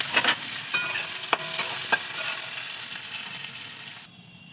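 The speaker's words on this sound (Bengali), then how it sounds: "বেশ খানিকটা কুচনো পেঁয়াজ দিয়ে দিচ্ছি।" Chopped onions sizzle steadily in hot oil in a kadai, with a few sharp scrapes and knocks of a stirring spoon early on, a continuous close frying hiss that drops off abruptly near the end.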